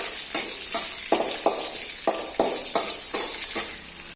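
Green chillies sizzling in hot oil in a home kitchen for masala dosa filling, a steady hiss broken by rhythmic scraping stirs of a spoon against the pan about every half second, close and clear.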